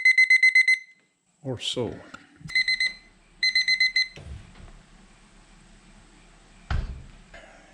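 Kitchen timer alarm beeping in rapid electronic bursts while a pizza bakes, three separate pulsing rings broken by clatter and nearby talk.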